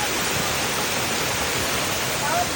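Waterfall heard as a continuous broadband roar of rushing water, loud and steady throughout, with no clear talk over it.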